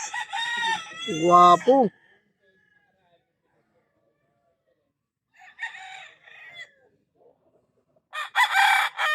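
Fighting cocks on a gamefowl farm crow loudly nearby, one long crow early, another fainter one mid-way and a third at the end, with someone talking between them.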